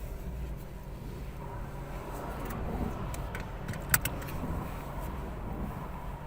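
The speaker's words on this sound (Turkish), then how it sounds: "Daha sonra emniyet kemerimizi takıyoruz." A seatbelt is fastened inside a car during a driving lesson: one sharp latch click stands out midway over a low, constant cabin rumble.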